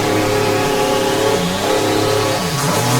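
A four-wheel drive car on mud tyres slides fully sideways in a Forza Horizon 4 drift, its engine revving loudly and continuously with rising and falling pitch sweeps throughout.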